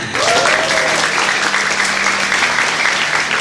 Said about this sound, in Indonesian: Tepuk tangan buat TKM-nya.